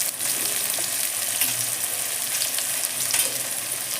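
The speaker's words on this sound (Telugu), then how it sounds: "అదేవిధంగా ఇందులోకి ఉల్లిపాయలు, ఉల్లిపాయ మంచిగా వేయించుకోవాలి." Sliced onions fry in a hot pan, giving a steady, close hiss of sizzling oil that runs the whole time, with soft stirring scrapes now and then and no voices.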